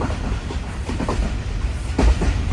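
Overnight express train on the Karachi to Sehwan route rolling along its rails, a steady close rumble with rhythmic clickety-clack of the wheels and no voices.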